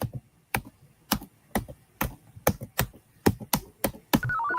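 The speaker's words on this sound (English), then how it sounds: "I think you're typing too fast." Keys on a computer keyboard are struck in a steady series of about eight sharp, close taps, evenly spaced, ending with a short electronic tone.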